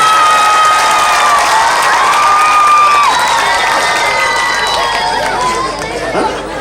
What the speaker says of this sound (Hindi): बजाओ तो जोर से बजाओ, एक आदमी ताली बजा।